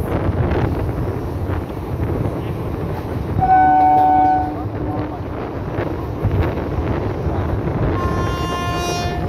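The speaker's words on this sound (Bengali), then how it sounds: "আপনাদের সামনে এখন শহীদ এক্সপ্রেস।" The Shaheed Express rolls past on Indian rails with a loud, steady roar of wheels and carriages and wind buffeting the microphone, while a long horn blast sounds midway and another tonal horn enters near the end.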